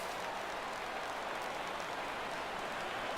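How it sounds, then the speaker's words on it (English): Baseball crowd in a PS4 video game rising on a 3-2 full count: a steady, dense wash of roaring stadium noise that holds at one level for about three seconds, with no voices on top. "Crowd gets up for the 3-2"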